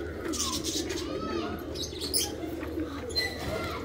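Female teddy pigeons coo softly and repeatedly in a coop, with scattered chirps and a brief flutter over steady background noise.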